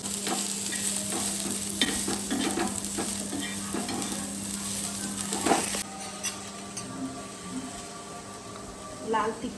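Mutton sizzles in a pan for rogan josh while a spoon stirs it: steady close frying hiss with clinks and scrapes against the pan, quieting after a few seconds into softer sizzling and occasional clatter.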